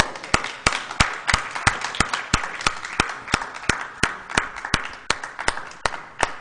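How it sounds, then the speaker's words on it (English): Applause from an audience at an evening public forum, heard as a run of fairly sparse, distinct hand claps repeating steadily from moderate distance, with no voices over it. "let's give one more round of applause to Mr."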